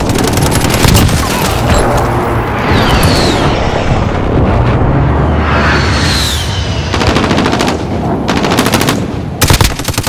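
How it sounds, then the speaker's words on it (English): Heavy gunfire and bursts of explosions from a Call of Duty Modern Warfare airstrike pound continuously, loud and dense with rapid automatic fire layered over deep booms. "Friendly position airstrike inbound"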